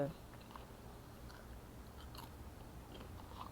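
Soft, close crunching and chewing of crispy keto food, with quiet irregular bites over a low background and no talking.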